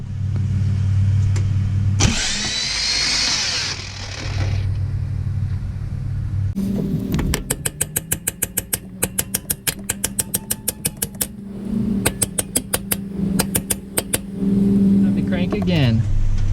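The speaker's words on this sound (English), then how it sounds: "Now I'm going to give her another crank and see what happens." The engine of a barn-find Toyota Land Cruiser FJ62 cranks over with a rapid rhythmic chugging from the starter, preceded by a loud hiss and steady rumble, close by.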